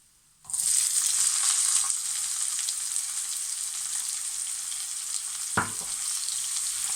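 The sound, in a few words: onions frying in oil in a pan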